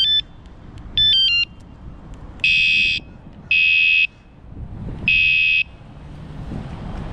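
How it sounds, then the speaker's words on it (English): An e-bike anti-theft alarm sounds outdoors: two short warbling chirps followed by three loud, steady electronic beeps about a second apart over faint street background. "I have an anti-theft alarm. You might have been able to hear it at times."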